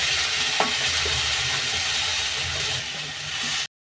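Ground chili paste for Andhra-style chicken Kodi kura frying in a pan, a steady loud sizzle and hiss with faint stirring scrapes throughout, no voices.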